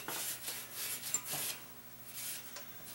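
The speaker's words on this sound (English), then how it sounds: "I'm just using a Scotch-Brite here because you want the bearings to sit down in there nice and good" A Scotch-Brite pad scrubs a bearing seat on an early-90s 350 motor part in short, close, abrasive rubbing strokes. It is heavier in the first half and quieter after that, and no one speaks.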